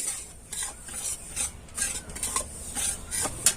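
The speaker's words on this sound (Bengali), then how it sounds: "এই দুধটা দিয়ে ভালো করে নেড়ে নেব" Semolina and milk are stirred in a pan, a spoon scraping in repeated rasping strokes with light sizzling, close and steady, no voices.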